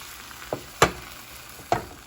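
Hearts of palm with a poured egg mixture cook in a pan, a low steady sizzle broken by three sharp utensil clacks against the pan.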